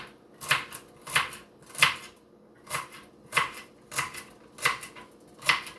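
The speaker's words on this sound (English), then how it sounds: "chop up just a few small pieces of celery" A knife chops half a stalk of celery into small pieces on a cutting board, about nine crisp evenly spaced cuts, close and clear with quiet gaps between and no talking.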